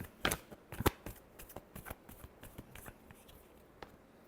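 A deck of tarot cards is shuffled in a string of soft riffling flicks and papery slaps, a few sharper snaps standing out early, all quiet and close.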